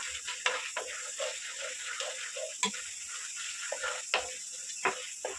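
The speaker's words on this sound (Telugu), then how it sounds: "ఇప్పుడు శనగపప్పు వేస్తున్నానండి. శనగపప్పు ఫ్రై చేసుకున్నాము." Chana dal frying in hot oil for mango pulihora: a quiet, continuous sizzle with soft crackles and occasional sharp clicks of a spoon against the pan.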